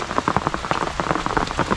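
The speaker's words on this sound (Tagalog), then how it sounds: "Masyadong nang malakas yung ulan." Heavy rain pours steadily onto a surface, giving a dense, close hiss of drops with no voices heard.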